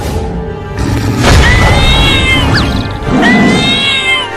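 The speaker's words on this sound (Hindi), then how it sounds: "वो देखो, उन बिल्लियों की माँ उस शेर से लड़ गई है अपने बच्चों को बचाने के लिए।" A cartoon mother cat yowls loudly and repeatedly in drawn-out, rising meows while fighting a lion, with scuffling thuds and crashes underneath.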